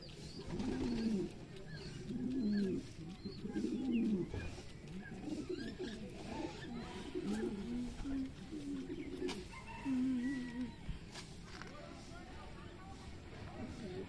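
Racing pigeons at a pigeon farm coo repeatedly in low, rolling phrases, moderately close, with steady background noise and some talk mixed in.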